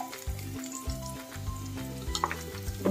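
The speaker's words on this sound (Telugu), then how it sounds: "ఒక ఉల్లిపాయ వేసుకుని వేయించుకుందాం" Sliced onion sizzling and frying in hot oil in a pan while an egg cheese omelette is being made, a steady close crackle with occasional stirring scrapes.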